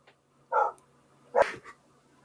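A dog barks twice, spaced about a second apart, close and clear against a quiet background with no voices.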